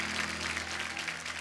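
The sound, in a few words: studio audience applause welcoming actress Shreya Dhanwanthary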